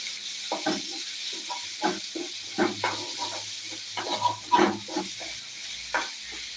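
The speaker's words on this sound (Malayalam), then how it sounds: "കറിയപ്പര അതുപോലെ തന്നെ തക്കാളി കൂടെ ഇട്ട് കൊടുക്കും ഇത് ഇളക്കി കൊടുത്ത്" Curry leaves and tomato stirred in hot oil, giving a steady sizzling hiss broken by repeated scraping stirs of a spoon through the pan, close and moderately loud with no talking.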